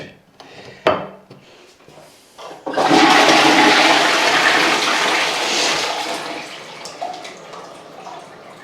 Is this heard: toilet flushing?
yes